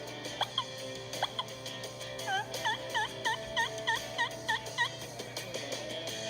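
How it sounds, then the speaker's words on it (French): Wild turkey call, a rapid series of sharp yelping clucks and gobble-like notes in quick rhythmic bursts, fairly faint with no talk. "Vous devez être capable de varier vos appels pour avoir de bons résultats."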